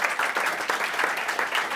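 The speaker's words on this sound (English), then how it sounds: "Give them a hand of applause." An audience at a tech conference applauds steadily, a dense wash of clapping hands that runs close and loud throughout.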